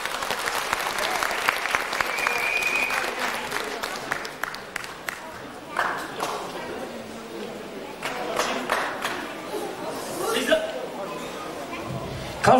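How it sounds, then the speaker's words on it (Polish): An audience applauds at a karate demonstration in Opatów, a dense sustained clapping that runs throughout and gradually thins, with some chatter and a voice speaking over it. "Duże brawa, dziękujemy."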